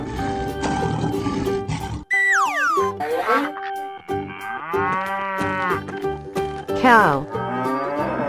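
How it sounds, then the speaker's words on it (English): A cow moos loudly in a playful animal sound-guessing game, the long drawn-out lowing call set among other animal sounds and springy cartoon effects, with no talking. "Cow."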